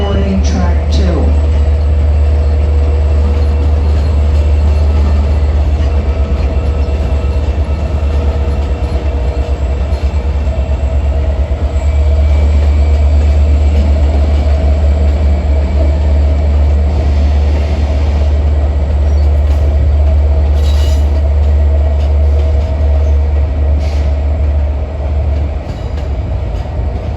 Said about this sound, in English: Here comes 8706 arriving track 8.